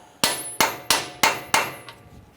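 Five light, evenly spaced hammer taps seat a rear axle bearing on a 2002-2008 Dodge Ram 1500, each a sharp close metallic knock that decays quickly, with a fainter sixth tap at the end.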